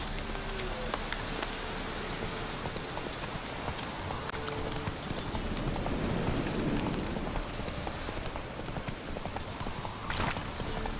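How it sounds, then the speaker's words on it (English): Horse hooves clip-clop steadily through rain in The Witcher 3, with patter of raindrops on the ground throughout and a constant rainy hiss beneath the rhythmic footfalls. "Roach, magic teleporting horse, let's go!"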